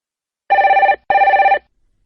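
A telephone rings in two loud, close bursts of rapid trilling bell tones, each lasting about half a second with a short gap, then silence.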